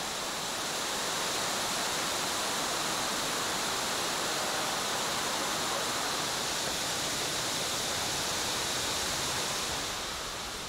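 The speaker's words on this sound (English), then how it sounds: "as the widest waterfall in China, it certainly deserves that description" The widest waterfall in China, at Jiuzhaigou in winter, roars as a steady, loud wash of rushing water. It holds constant throughout with no pauses and no voices.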